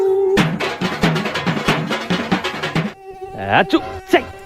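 A mosquito at night drones in a thin, wavering whine close by, overlaid with a rapid rhythmic pattering of other sounds and a brief gap before the buzzing resumes.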